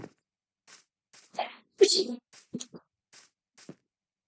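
A single sharp sneeze bursts out amid scattered short sounds and murmurs, close by in a quiet setting.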